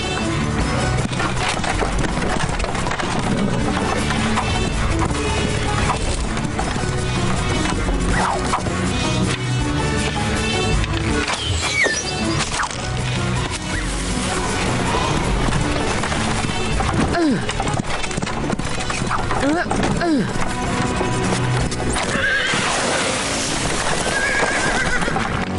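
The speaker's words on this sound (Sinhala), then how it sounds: "අශ්වය යනවා" Cartoon horse from a Robin Hood animated series, galloping with rapid clip-clop hoofbeats and loud whinnies over a dense music score and effects, continuous throughout.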